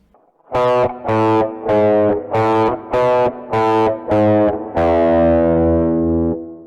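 A distorted electric guitar plays part of a riff, six chopped, heavy chords, then lets a final chord ring out loud and sustained.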